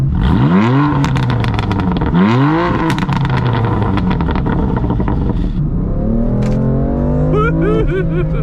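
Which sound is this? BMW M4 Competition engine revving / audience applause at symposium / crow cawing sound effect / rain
BMW M4 Competition engine revving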